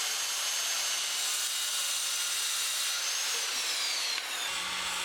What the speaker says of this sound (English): Cut the boards to match the height of the backpack hanger